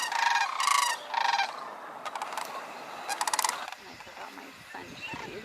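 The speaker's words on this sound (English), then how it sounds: "The cranes are standing in the grass." Sandhill cranes standing in grass along the Cosumnes River preserve, giving loud rolling, trumpeting calls in several bursts, with softer outdoor background noise and a quieter stretch at the end.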